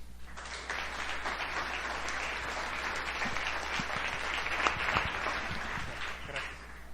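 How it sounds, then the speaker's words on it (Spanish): An audience at a TEDx salon in a hall gives a round of applause, a moderate, even wash of clapping that holds steady throughout, somewhat distant over a low background hum. "Así que le damos un aplauso también para él."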